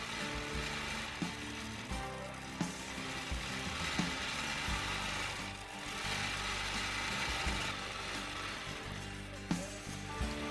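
A Handi Quilter quilting machine runs steadily while stitching swirls, a continuous close mechanical whir with rapid rhythmic needle ticking and occasional louder clicks, with no talking.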